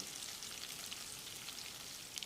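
Curry leaves stirred into hot oil sizzle and crackle steadily, with faint spattering pops over a soft hiss.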